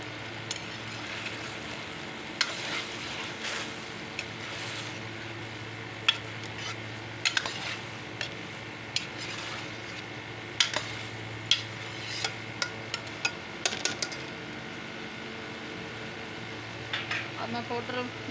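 Tomato paste stirred into okra frying in a pan: a steady low sizzle runs throughout, broken by scattered light scrapes and clinks of a spoon against the pan, close and fairly quiet.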